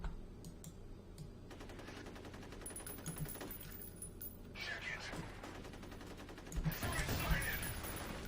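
Gunfire in the video game F.E.A.R. Extraction Point: repeated bursts of automatic weapon fire over a steady low game rumble, swelling into a louder, denser volley near the end.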